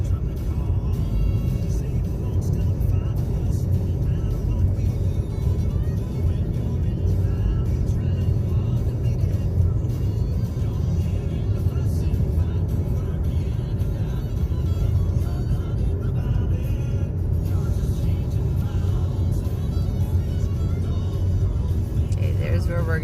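Car driving over a viaduct on the Blue Ridge Parkway in North Carolina on a foggy day, a steady interior road rumble and engine drone throughout with people talking over it.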